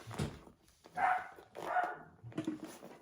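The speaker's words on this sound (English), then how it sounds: "Sorry for the barking dog." A dog barks indoors in a few separate, moderately loud bursts with short pauses between them, some sounding like whiny yips, heard alone without talk.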